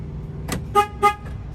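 Two quick, bright electronic chirps from a Freightliner truck's alarm as it unlocks, close and fairly loud, one right after the other.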